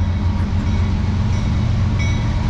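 A CSX freight train rolls past nearby, a steady loud rumble of rail cars grinding along the track with no break and no voices.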